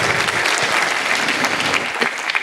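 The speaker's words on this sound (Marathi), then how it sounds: "आपण जोरदार टाळ्यांच्या गजरात या सगळ्यांचं मनपूर्वक स्वागत करूयात" Loud, sustained applause from a crowd welcoming guests at a book launch event, a dense and even wash of clapping that continues without a break throughout.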